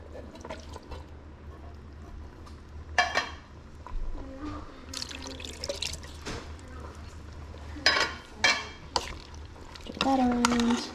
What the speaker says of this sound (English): So I'm also gonna put in my pineapple chunks. 3 cans of it.